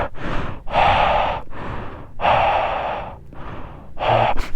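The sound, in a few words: loud heavy breathing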